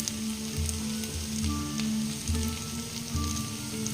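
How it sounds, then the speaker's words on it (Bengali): Chicken pieces fry in a pan at home, a steady close sizzle with faint crackles and a low repeating bubbling pulse, no talking. "এই যে দেখুন, চিকেনটা প্রায় ভাজা ভাজা হয়ে এসছে।"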